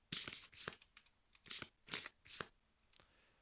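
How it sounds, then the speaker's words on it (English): Playing cards for the board game Kingdom Death: Monster flipped over and shuffled by hand, several quick papery riffles and slaps in a row, close and clear with no talking. "Now let's flip these over and shuffle them."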